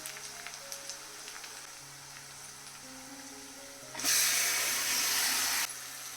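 Marinated chicken dropped into a pan of fried onions and ginger-garlic paste, bursting into a loud, steady sizzle partway through that hisses for a couple of seconds before easing back to a quieter simmer.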